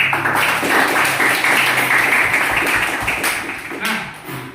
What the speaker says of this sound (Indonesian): Jadi tepuk tangan semuanya dulu ya.